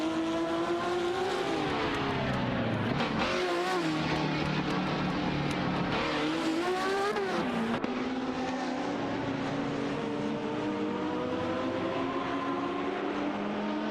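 Race cars accelerating at the start of a race in a video game, engines whining and rising in pitch as they climb through the gears, several cars layered together, loud and continuous.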